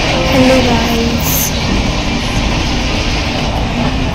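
Steady rumbling and rattling fill the inside of a moving passenger train, a continuous loud roar with faint clatter throughout.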